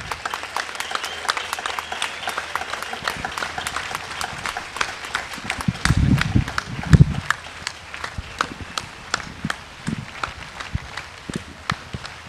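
Audience applause at a concert fills the space, steady clapping from a crowd that swells briefly midway with low thumps, continuing throughout.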